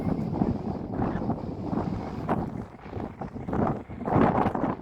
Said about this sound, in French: Il y a beaucoup de vent, donc je sais pas si vous allez m'entendre.